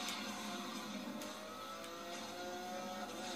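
A car in Need for Speed on Wii U boosts with nitro, giving a steady, loud, high-pitched engine roar that holds evenly throughout with no talk.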